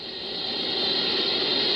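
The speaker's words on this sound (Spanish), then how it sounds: "Pero la Horn antena que utilizan recibe constantes interferencias." Steady broadband hiss of radio interference picked up by the Horn Antenna, arriving uniformly from every direction; a constant static wash at even loudness, alone, cutting off abruptly at the end.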